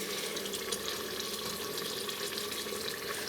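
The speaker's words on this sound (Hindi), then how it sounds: "साथ में उसमें एक गिलास जो है इसमें मैं पानी डाल दूँगी।" A glass of water is poured into a cooking pot of beef and turnip bhujia, making a steady, moderately quiet rush and sizzle that runs the whole time without a break.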